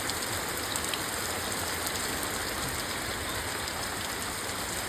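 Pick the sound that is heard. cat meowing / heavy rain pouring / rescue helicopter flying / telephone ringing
heavy rain pouring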